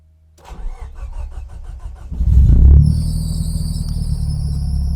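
A Nissan 200SX engine cranks with a rapid starter whir, then catches and roars to life, settling into a steady, loud idle close by with no talking.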